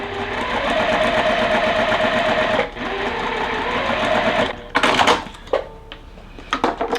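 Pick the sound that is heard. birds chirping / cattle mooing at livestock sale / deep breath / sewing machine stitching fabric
sewing machine stitching fabric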